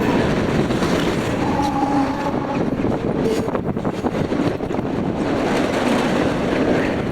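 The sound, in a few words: CSX manifest freight train passing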